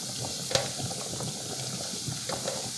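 Garlic frying in olive oil in a pan for spaghetti aglio e olio: a soft, steady sizzle with a few small pops and clicks, quiet and close.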